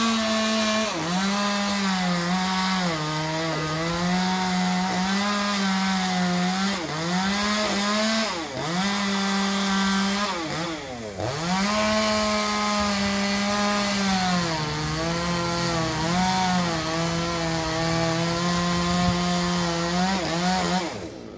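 A chainsaw cuts a two-metre section from a Sao tree on church grounds in Tan Hiep, Kien Giang; the engine drones loud and steady, its pitch dipping as the chain bites into the wood.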